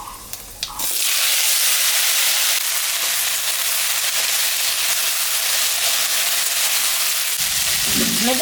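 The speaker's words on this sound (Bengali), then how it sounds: "এখন আমি চাল কুমড়াটা দিয়ে দিই চাল কুমড়ার আলু" Pieces of ash gourd and potato drop into hot oil spiced with dried chilli and five-spice seeds, setting off a sudden loud sizzle that holds as a steady close frying hiss, with a faint stirring clatter near the end.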